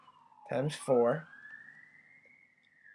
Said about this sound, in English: I don't know if you can hear that siren going on in the background